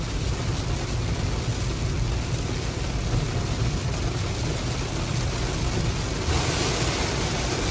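Heavy rain during a Wyoming rainstorm heard from inside a moving Rivian, a dense constant broadband hiss and roar blended with road rumble, steady and loud throughout with no voices.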